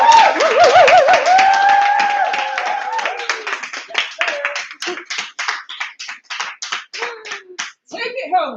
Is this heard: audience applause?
yes